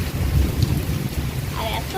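Steady rain of the year's first monsoon hisses over a surface with low rumbling underneath, fairly loud and continuous, no voices.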